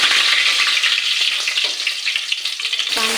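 Curry leaves fry in hot oil for mutton rassa curry, giving a brief, loud, close crackling sizzle that holds steady for a few seconds.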